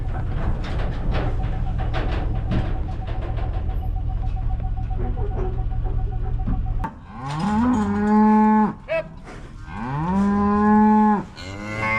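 A ranch cow lows twice, loud and close, in long drawn-out moos with a harmonic sweep, after several seconds of steady low rumbling background noise.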